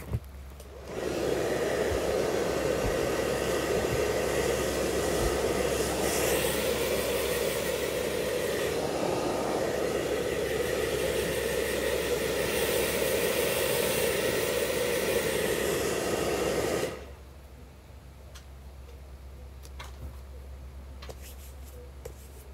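A hair dryer blows hair in a steady, loud, close rush of air lasting about sixteen seconds, then cuts off abruptly, leaving quiet room tone with faint handling noises.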